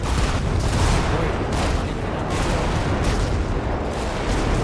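Gunfire and explosions in an action video game roll on as a dense, continuous barrage of booms and shots, loud and close, with periodic heavier blasts and little letup.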